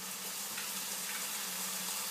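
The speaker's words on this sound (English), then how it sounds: "You can hear that sizzle." Continuous hiss and crackle of balsamic vinegar sizzling in a hot pan with minced meat, steady and close, with no voices.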